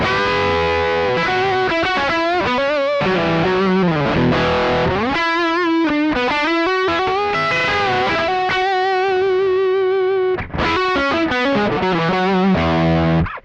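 Electric guitar played through an amp with the drive turned up high, giving a loud, saturated distorted tone as notes and bends ring out continuously, with no one talking.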